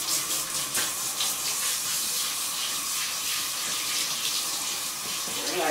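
Steady hiss of water pouring from a tap into a tub for a dog's bath, constant and moderately quiet throughout.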